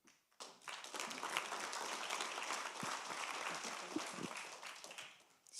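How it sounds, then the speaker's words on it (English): Warm audience applause fills an awards ceremony hall, steady dense clapping sustained for about five seconds with a few sharper individual claps standing out. "please give a warm applause to MEP Massimiliano Smerio."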